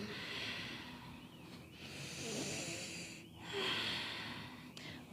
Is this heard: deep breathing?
yes